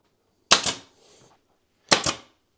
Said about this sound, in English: shoot a pin nail in here